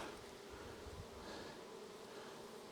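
Soft, steady buzzing of many honeybees from a swarm humming together at close range, a continuous drone with no voices.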